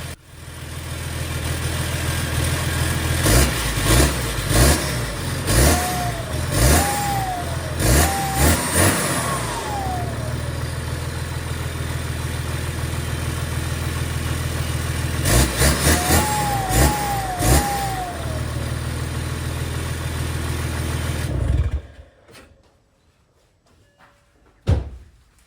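First start of a BMW M57 diesel engine swapped into an Alpina D3 Touring, running with no downpipe fitted and an EGR delete: a loud, continuous engine drone with repeated sharp revs in two bursts, then cut off, with a brief knock at the end.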